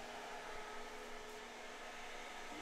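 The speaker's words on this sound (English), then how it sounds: "So this is the fan on low, and then that's the fan on high just before it shuts off." An 8-inch fan used for cooling runs on its high setting, a steady whooshing blow with a faint motor hum, constant and even over a few seconds with no voices.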